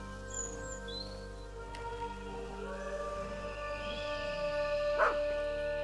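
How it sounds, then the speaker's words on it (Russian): A dog growls and whimpers in the horror video game Maid of Sker, faint and uneasy over a steady droning tonal backdrop, with a sharper cry near the end. "Это типа, походу, вот эта злая собака или что это вообще вылезло?"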